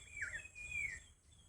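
A single soft bird chirp followed by a thin whistled note, faint and distant over a low background hum.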